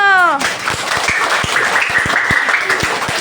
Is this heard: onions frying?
no